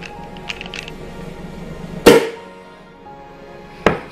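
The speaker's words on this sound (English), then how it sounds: "you're going to open your champagne, and you can use any champagne you'd like" A champagne bottle is uncorked in a kitchen, giving one sharp pop midway through a quiet stretch, followed later by a second brief knock.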